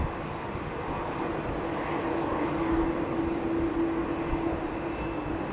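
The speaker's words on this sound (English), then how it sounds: "it's the absolute correct takeoff speed based on the weight of that aircraft" An airliner accelerating down the runway for takeoff at London Heathrow Airport, a steady, broad engine roar with a sustained tonal hum, holding even and loud throughout with no speech.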